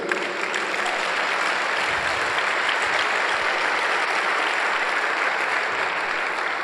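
A congregation at a pastors' gathering in a church claps loudly and continuously, a thick wash of applause with no pause.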